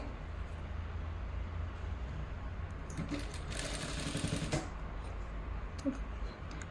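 A sewing machine stitches the front cup piece of a double katori blouse, a steady close whirring run with a brief louder rattling burst in the middle.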